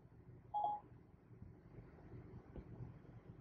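A single short electronic call tone plays through Apple CarPlay with Siri in a Honda Civic, clear but brief over faint, steady cabin and road hum.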